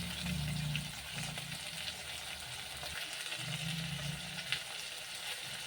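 Chopped onions frying in oil in a Bengali suji recipe, a soft continuous sizzle with low bubbling and occasional stirring clicks, fairly quiet.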